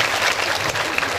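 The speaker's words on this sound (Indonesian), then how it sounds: "Mana tepuk tangannya?" A crowd at a religious lecture by Ustadz Maulana in Kundur, Karimun, Riau Islands breaks into brief, loud, full applause, dense clapping filling the whole moment.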